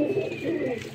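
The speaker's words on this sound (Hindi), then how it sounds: "ये कबूतर।" A teddy pigeon gives a soft, low, throaty coo, a brief rolling call heard close up with a faint whistling tone in the background.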